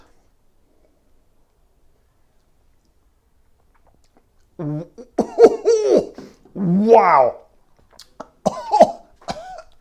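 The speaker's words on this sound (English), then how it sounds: "if it makes me cough, it's usually a good sign" Several harsh coughs come in close bursts after a few seconds of silence, mixed with a brief spoken exclamation, from a person tasting Levantine gin.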